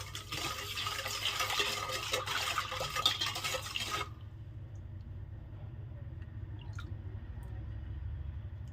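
Water is poured into a sherbet drink, a bright splashing pour for about four seconds that then stops, leaving a quiet low hum.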